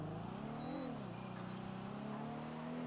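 Car engine in a GTA RP roleplay game revving steadily as the vehicle drives off, a continuous droning hum with rising and falling pitch, loud and close with no talking.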